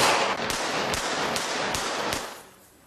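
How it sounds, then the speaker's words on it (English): Gunshots fired in a filmed police shooting reenactment staged at a gas station, about five sharp cracks spaced roughly half a second apart over a steady noisy background, fading out at the end. "Gunshots erupt as police officers collapse to the ground."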